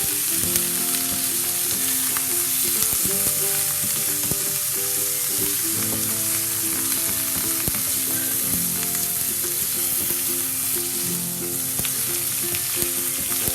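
Fish sizzles in masala in a pan for a Kerala fish molly, a constant close frying crackle with occasional stirring scrapes and no voices.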